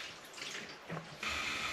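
Water starts running through household plumbing as a valve is opened, a soft hiss that jumps to a steadier, brighter rush partway through; fairly quiet and heard alone without talk.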